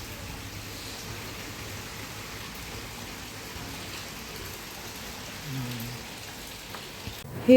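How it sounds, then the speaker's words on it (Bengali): Unseasonal rain falling on a wedding venue pandal, a steady, even patter of rain on surfaces throughout, moderately loud and close, with a faint low rumble near the end. "অসময়ে বৃষ্টি আর বিয়েবাড়িতে"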